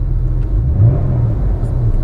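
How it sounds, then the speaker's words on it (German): Steady, deep rumbling engine drone from a 1999 Porsche 911 Carrera 4 Cabrio 996 with its rear-mounted engine, held at a fairly constant level and loud throughout with no voices. "Man weiß halt, der Motor ist hinten und dann der Sound wird hinten produziert und dann kommen auch die Abgase hinten raus."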